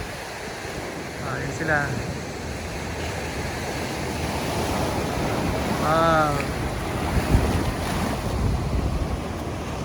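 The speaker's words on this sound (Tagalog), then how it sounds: "Nakikot mo, malakas ang alon." Strong ocean waves crash and surge near a lighthouse on a remote Hawaiian coast, a constant roaring wash with heavy wind buffeting the microphone, while people talk and exclaim briefly over it.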